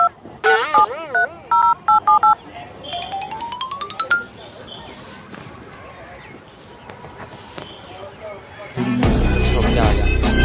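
Mobile phone keypad tones beep in a quick series of distinct dialing bursts early on, followed by quieter rustling and then a loud burst of music near the end, with a voice briefly in the background.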